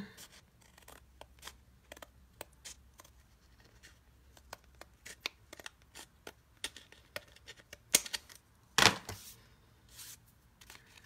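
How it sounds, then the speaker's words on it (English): Scissors trimming a white border off a paper card, heard as faint, scattered snips and paper rustles close by in a quiet room, with a couple of louder handling sounds near the end. "I have a little bit of this white border, and I'm just going to trim it off"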